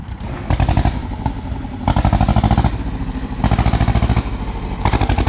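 A loud two-cylinder engine of a four-wheel-drive Champ 304 SLX tractor thumps at idle nearby, a rapid steady chugging beat that swells and eases in repeated pulses as the throttle changes.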